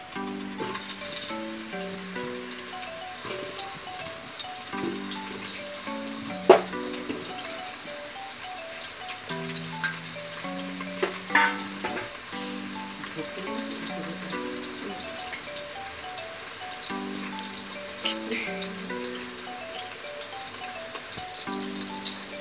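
Potatoes drop into a couple of spoonfuls of hot oil in a pan, giving a soft, uneven sizzle with a few sharp clinks and splashes over background hum, close and low in level, without talk.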